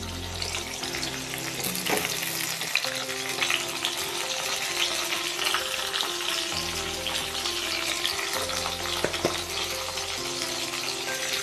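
Cauliflower frying with mutton in a pan, a close, continuous sizzle with spattering crackles and occasional stirring clatter and hum beneath.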